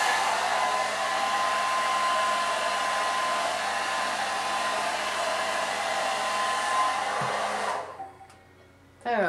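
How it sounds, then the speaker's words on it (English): A hair dryer blows steadily on a lace front wig, a loud continuous close whoosh that cuts off near the end. "And then I just blow dry it."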